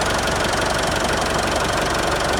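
A 4x4 double cabin pickup with a manual gearbox and diesel engine runs steadily close by, giving a continuous loud knocking rumble with no talk over it.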